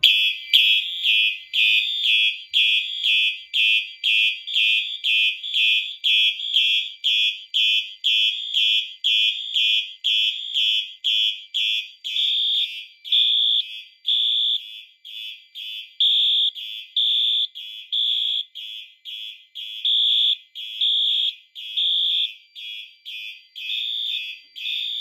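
A Fire-Lite fire alarm system (MS-5UD panel on a demo board) sounds after a BG10 pull station is pulled: a steady, loud, rapidly repeating electronic horn-strobe pattern pulsing continuously, with no talk.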